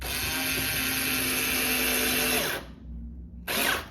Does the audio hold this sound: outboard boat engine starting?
no